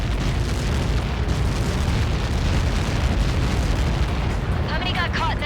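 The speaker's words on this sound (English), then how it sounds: "How many got caught in that explosion?" A massive blast from Helios projectiles striking in the aerial combat game Ace Combat 7 Skies Unknown, heard as a continuous loud, dense rumble that fills the whole stretch, with radio chatter from voices faintly layered over it.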